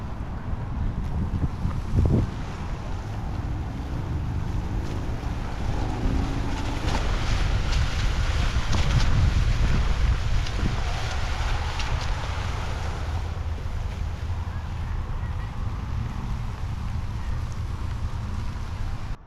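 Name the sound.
mountainboard riding outdoors with wind noise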